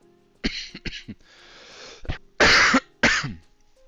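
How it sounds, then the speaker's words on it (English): Several harsh coughs in a short burst, then a rough breathy stretch and two louder, hacking coughs close by, with no talking. "I'm getting a bit frustrated with this cough."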